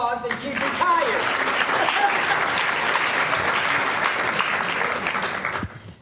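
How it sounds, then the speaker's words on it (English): Sustained applause from an audience at a school district recognition event honoring a retired Florida Education Association member, dense clapping filling the room for about six seconds before tapering off, with some voices mixed in early on. "let's give her a round of applause"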